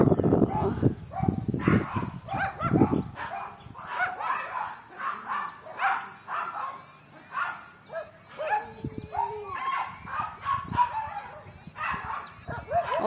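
Dogs at a shelter housing sick dogs bark and yip repeatedly in irregular bursts, several animals close by, with a loud low-pitched barking burst at the start and quieter yelps and whimpers continuing throughout.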